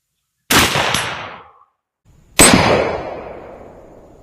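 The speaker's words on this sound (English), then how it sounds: "Let's shoot that 4-inch plate down there." Two loud rifle shots from a 6.5 Grendel carbine fire outdoors at a 4-inch steel plate, each a sharp crack with a faint ping after the first, followed by a long fading echo before the next.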